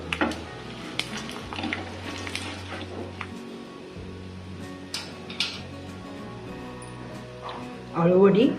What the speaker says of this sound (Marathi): वड्या अशा आपण आता छान तेलात अशा फ्राय करूनच घेऊ